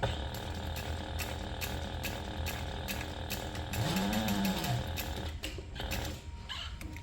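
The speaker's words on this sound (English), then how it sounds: "I'm actually going to go back in and just sew over it one more time" Sewing machine running a repeat line of stitching over bag strap webbing on a crossbody waist bag, a steady mechanical whir and clatter throughout, with a brief rising motor tone partway through.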